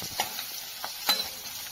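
A garnish of ginger and cumin fries in a pan with a quiet, steady sizzle, broken by a few soft clicks and scrapes of stirring, with no talking.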